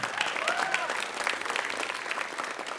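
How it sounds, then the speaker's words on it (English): A classroom audience applauds a panel guest with brisk, even clapping that carries on without a break, fairly close, with faint voices mixed in. "give a round of applause for Ryan"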